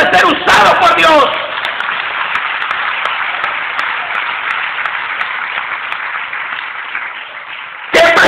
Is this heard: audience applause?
yes